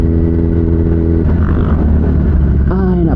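A Kawasaki ZX10R motorcycle on a ride, its engine droning loud and close with steady rumbling tones, then shifting and rising in pitch as it revs near the end.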